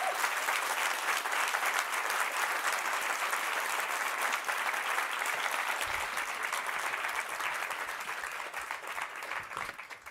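An audience applauds after a talk, a dense, steady wash of clapping from many hands that carries on for about ten seconds and eases slightly toward the end.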